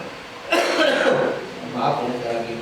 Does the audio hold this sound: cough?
yes